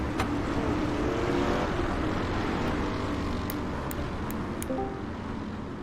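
Dirt-track race car engines at Eldora in iRacing make a continuous, dense roar with shifting pitch from several cars. Sharp ticks are scattered near the end.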